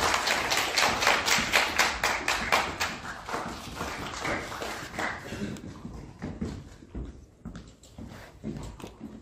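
Audience applause at a political rally and press event, a sustained wash of clapping hands that fades and thins toward the end, leaving scattered individual claps.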